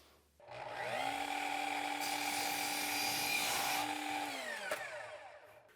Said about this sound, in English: I have some leftover pieces of conduit that I'm just gonna cut at an angle